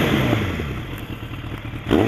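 A Suzuki GSX 750 Inazuma cafe racer motorcycle idles with a loud, close, rumbling engine note and clattering mechanical sounds, swelling slightly near the end as it is revved.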